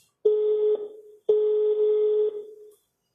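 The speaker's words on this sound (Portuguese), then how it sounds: "Deixa eu ligar para ela aqui. Tá chamando." A phone call rings out while the caller waits for an answer: two long electronic ringback tones, each lasting about a second, with a short gap between them, loud and clear with no talking.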